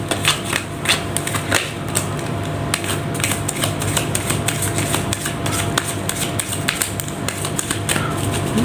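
Tarot cards are shuffled by hand in a rapid stream of crisp, fast clicking taps that runs continuously and close up, with no speech over it.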